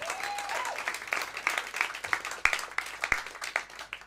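A small live-music audience keeps up applause after a set, with individual claps distinct and scattered over a thin, fairly quiet room sound, irregular and close.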